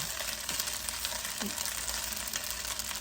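Pad see ew noodles with egg stir-frying in a pan, a constant dense sizzle with occasional soft knocks and scrapes from stirring, close and even, with no talking.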